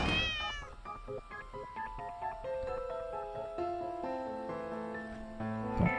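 A single cat meow from the video game The Cat Lady opens the clip, followed by a soft, steady game music melody.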